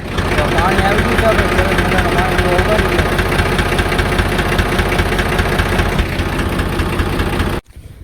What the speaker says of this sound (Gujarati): આપણે ઘડીક વાર ટ્રેક્ટર ઊભું રાખ્યું છે